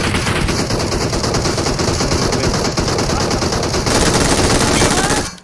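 Sustained automatic gunfire rattles loud and dense throughout a PUBG Mobile match, continuous bursts with voices mixed underneath and a brief rise in intensity near the end.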